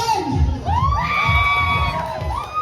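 A crowd at a casual-attire contest shouts, whoops and cheers loudly and steadily throughout, with high excited voices rising over a dense roar of clapping and noise.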